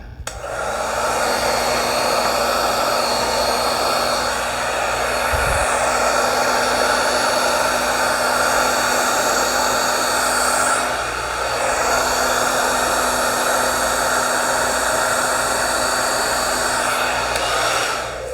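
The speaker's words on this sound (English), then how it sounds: "Do I want to throw my dryer on that again?" A hair dryer blows steadily and loudly from start to finish, a constant whooshing roar with a brief dip partway through.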